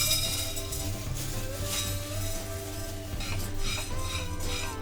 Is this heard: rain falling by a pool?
no